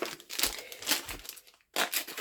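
Crinkly plastic packaging is cut and opened with kitchen scissors to reach dough, close and fairly loud, in several rustling bursts with a brief quiet gap before a final crackle.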